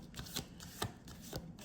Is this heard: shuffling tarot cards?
yes